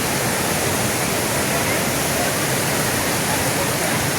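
A large waterfall behind a resort roars as a loud, unbroken broadband rush of falling water, steady and close, with no other sounds.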